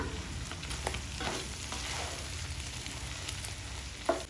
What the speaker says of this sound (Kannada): ಇವೆರಡನ್ನೂ ಸೇರಿಸಿ ಫ್ರೈ ಮಾಡ್ಕೊಳ್ತಾ ಇದ್ದೀನಿ